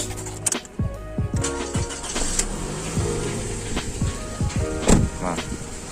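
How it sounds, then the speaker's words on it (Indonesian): A Toyota Camry with a 2400 cc engine cranks and starts, a busy churning rumble with quick bursts and mechanical clatter that settles into a steady idle, heard close up. "kita start up bunyi mesinnya seperti apa agar teman-teman mengetahui"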